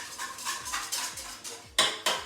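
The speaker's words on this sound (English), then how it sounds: "I'll give that a whisk, just to blend it" A whisk beats milk powder into liquid in a bowl for milk bread dough, making a series of quick metallic scrapes and taps against the bowl, close and fairly loud, with sharper clinks near the end.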